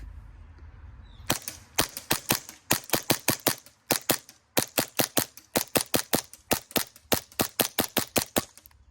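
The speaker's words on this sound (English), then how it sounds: "Now let's see how many mags of BBs we can dump on a single gas fill with the SSP5." A Novritsch SSP5 gas airsoft pistol fires a full magazine of BBs in a long string of sharp, loud cracks, about thirty shots in quick, slightly uneven bursts, close and with no talk.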